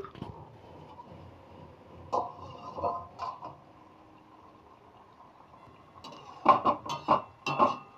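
A lid comes off a pot of simmering soybean and potato curry with a short run of bright metallic clinks and clatters near the end, after quiet bubbling and a few soft knocks.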